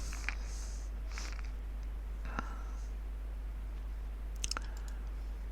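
Sharp mouse clicks at a computer, a couple of isolated ticks with a double click near the end, over steady low hum and faint background noise.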